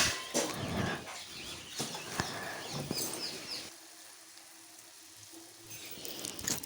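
Urad dal bondas fry in hot oil with irregular crackles and pops over a soft sizzle for a few seconds, then the sound drops to a faint, quieter bubbling with occasional clicks.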